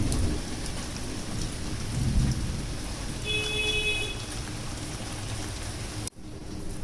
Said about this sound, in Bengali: বাইরে দেখো আরো জোরে বৃষ্টি নেমেছে।